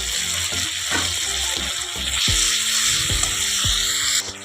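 Fish curry sizzles in a pan as spice paste and salt go in, a steady broadband hiss broken by several sharp knocks and scrapes of a spoon against the pan, close and fairly loud.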